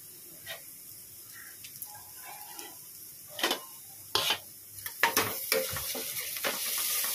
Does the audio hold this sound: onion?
yes